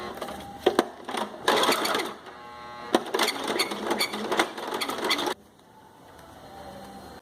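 A home sewing machine stitches bikini knit fabric in fast, loud, close mechanical runs with brief pauses, stopping abruptly near the end to leave quiet background.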